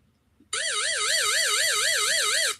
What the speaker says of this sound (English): I forgot to start the timer.